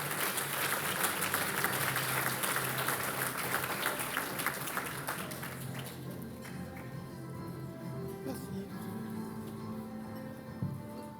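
Applause from the audience at a literary prize evening as a presenter is called up, dense clapping for several seconds that fades out, leaving quieter room sound and a few scattered claps.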